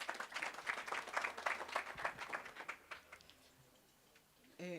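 Audience applause at a report launch event in Kenya, a dense patter of clapping from a crowd lasting a few seconds, then fading out as a voice begins speaking near the end.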